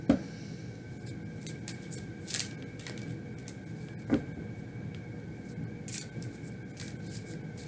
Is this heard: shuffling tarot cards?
yes